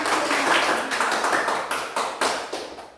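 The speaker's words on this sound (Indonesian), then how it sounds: "tepuk tangan buat kelompok 2 yang sudah mempresentasikan" Students in a classroom clap for a group that has just presented, a quick patter of scattered hands that thins into a few sharp separate claps toward the end.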